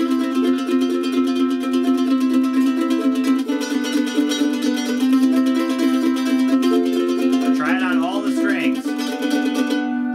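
Mandolin tremolo on the lowest string, a fast even picked buzz sustaining one low note near and clear for about ten seconds, alone, with a brief sliding flourish near the end.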